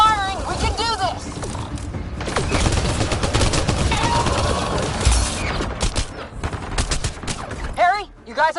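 Sustained gunfire in Mass Effect Andromeda, dense rapid shots stacked with game effects and chirping creature sounds, with voices shouting over the fighting.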